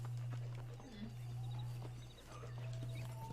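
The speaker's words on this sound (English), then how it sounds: "Let's ride this horse till it dies!" A horse's hooves clip-clop while riding in the Western video game Red Dead Redemption, set against a steady low drone and other game sounds, with faint voices now and then.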